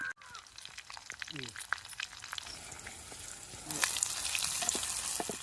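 Asafoetida dropped into hot oil for a tempering for thotakura pappu, a crackling sizzle with stirring clinks that grows louder and denser toward the end, close by, with brief speech early on.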